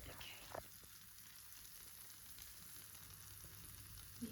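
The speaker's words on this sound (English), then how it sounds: "You hear the sizzling?" Soft, steady sizzling of four-cheese pizza cooking, a quiet continuous crackle with a couple of small clicks near the start and end.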